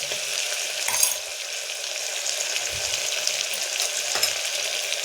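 Tomato rice seasoned with salt and turmeric sizzles steadily in a pan while it is stirred, with a few soft scraping knocks over the constant hiss and no talking.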